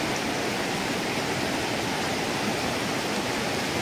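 Rushing water current flowing strongly, a dense continuous roar like a stream or small waterfall, close and loud with no let-up, no voices.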